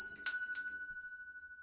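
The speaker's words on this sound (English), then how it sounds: "The bell that hung from the door rang out, crisp and clear." A shop door bell rings as a customer enters a store, struck twice in quick succession with a crisp, clear metallic tone that rings on and slowly fades.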